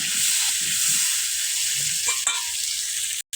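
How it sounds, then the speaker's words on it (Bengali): Potatoes sizzle steadily as they fry in oil in a pan, with occasional scraping stirs breaking through the loud, continuous hiss before it cuts off abruptly near the end. "হালকা একটু নেড়ে চেড়ে আলুটা বাদামি করে ভেজে"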